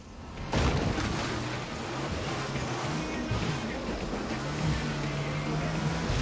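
A water scooter in the video game Far Cry 6 roars steadily over rushing water and spray. A sharp splash marks the start, then a continuous engine drone runs with gentle pitch shifts.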